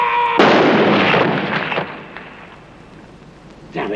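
Rifle volley from a film firing squad: one loud, sharp burst of simultaneous shots that booms and rolls away into a fading echo, with a brief voice or noise just before and a faint sound near the end.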